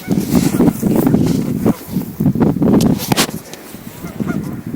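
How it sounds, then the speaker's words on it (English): A group of geese honking repeatedly and loudly nearby, just over a ledge at a Michigan campsite, overlapping calls in bursts with short gaps, no people talking. "There are geese right over that ledge."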